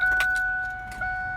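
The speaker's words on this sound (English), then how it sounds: "See, I'm putting the key in the ignition." Keys jangle close by as a key slides into the ignition of a Ford F150 pickup truck that will not start, a short metallic rattle inside the cab over a steady electronic tone.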